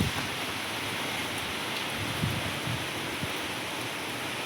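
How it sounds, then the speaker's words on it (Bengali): Steady rain falling outside, a dense even wash of patter with occasional heavier drops, continuous throughout with no voices. "কি রোদ ছিল আর এখন কি বৃষ্টি"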